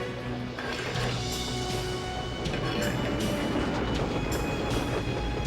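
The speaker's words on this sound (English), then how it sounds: "That train's on a different track." A train runs along a track with a continuous loud rolling rumble and faint rhythmic clatter, steady throughout the whole stretch.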